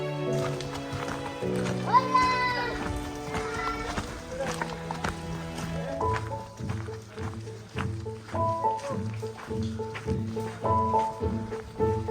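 Horses walk at a ranch where they carry children on rides, their hooves clip-clopping steadily in the background under continuous talk and tonal background sound.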